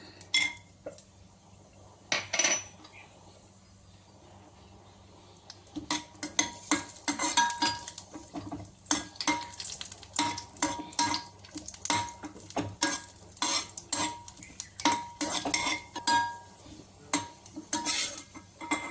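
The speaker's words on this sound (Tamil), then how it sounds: "நெய் கொஞ்சமாக ஊற்றிட்டு முந்திரி பருப்பு வறுத்துக்கலாம் முந்திரி கிஸ்மிஸ் வறுத்து முந்திரி பருப்பு போட்டுடலாம்" A metal spoon stirs cashews and raisins as they roast in a little ghee in a pan, giving irregular clinks and scrapes that grow busier and denser after a quiet opening, with no one talking.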